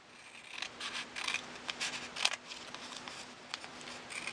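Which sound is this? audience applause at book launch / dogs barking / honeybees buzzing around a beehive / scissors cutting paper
scissors cutting paper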